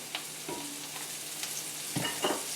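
Mushrooms fry in oil in a pan, making a soft, continuous sizzle with a few light clinks and stirring scrapes at irregular moments.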